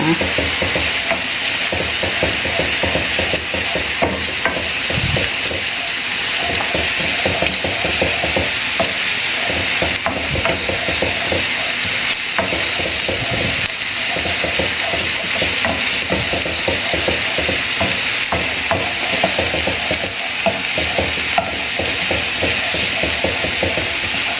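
Stroganoff meat browns in a pan with a loud, steady sizzle, broken by repeated scraping and clacking strokes of a spoon being stirred through it.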